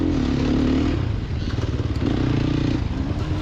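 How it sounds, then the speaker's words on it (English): A Sherco 300 SEF motorcycle engine runs close by with a steady, throaty hum that rises in pitch twice, with light clatter on top and no voices. "The motor on the Sherco"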